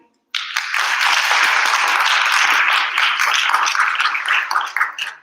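An audience bursts into sustained applause for a Bharathanatyam dancer at her arangetram, dense loud clapping starting abruptly and thinning slightly near the end.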